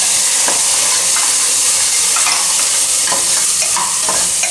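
Green chickpeas, peas and beans are stirred into a hot pan for mixed vegetable daliya soup, with a loud continuous sizzle and intermittent scraping of a spoon, close up and with no voices.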